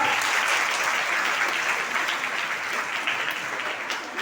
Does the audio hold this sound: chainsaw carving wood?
no